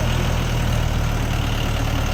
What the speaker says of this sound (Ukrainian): вантажимо тракторця ЛВО 454 з ґрунтофрезою